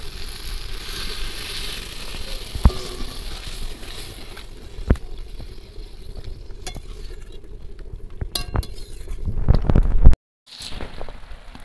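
Spiced mixed vegetables for a Bengali labra sizzle steadily in a pan, with scattered utensil knocks. A burst of louder hissing follows as water is poured in, then the sound cuts off abruptly.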